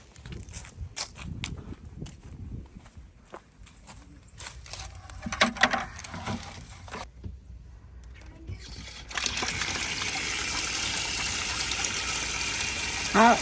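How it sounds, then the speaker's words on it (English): Well water gushes from a pipe into a bucket, a steady, close rushing pour that starts abruptly partway through after shuffling footsteps and handling noises. "Well, it's not coming out at the best angle, but y'all, that's well water."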